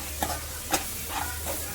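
Spices crackle and sizzle in hot oil as tempering for a crab curry, a steady frying hiss broken by a few sharp pops and stirring scrapes.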